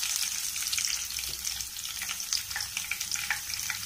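Chopped onion sizzles in hot oil in a pan with fenugreek seeds and urad dal for paruppu urundai kulambu, a steady close crackling fry with no talking.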